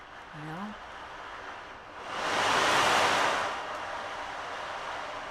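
Ocean waves roll near the Gulf of Mexico shore, one wash swelling loudly in the middle and easing back into a steady, windy surf hiss, with a brief squeak-like sound near the start.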